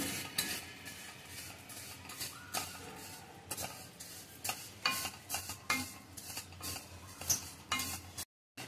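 Vermicelli roasts in ghee over a low flame while a spoon scrapes and stirs it around a pan, a steady close clatter over a soft sizzle.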